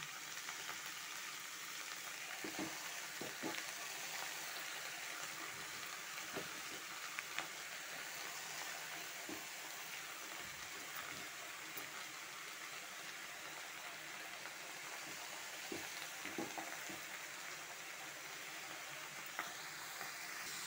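Pumpkin leaves with green chilies sizzle in a pan with no added water, a steady soft frying hiss dotted with small pops and crackles throughout.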